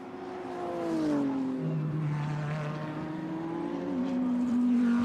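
DTM race cars lapping the Lausitzring during qualifying: engines rise and fall through gear changes, one car climbing in pitch then shifting down as another sweeps past, steady and moderately loud with no talk.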